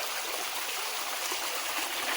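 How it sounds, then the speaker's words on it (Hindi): Water flows steadily down a stream in a mountain gully, a continuous close rushing and trickling with no break and no voices. "ये देखिए ये पूरा बहता हुआ पानी आ रहा है"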